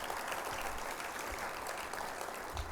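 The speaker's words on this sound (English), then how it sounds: "I'd like to certainly get a round of applause for Cigna" Audience applause at a charity cure fundraising event, a faint, dense, even wash of clapping from a crowd heard at a distance for a few seconds.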